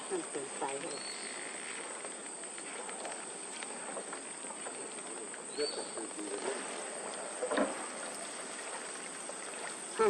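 River water flows steadily along a stream where fish are being caught with a lift net. It makes a continuous close trickling rush, and insects chirp faintly in the background.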